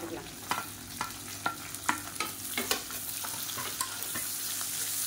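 Beetroot, slit green chilies and long-sliced onion sauté in ghee, a soft steady sizzle broken by quick rhythmic scrapes of a spoon stirring the pan.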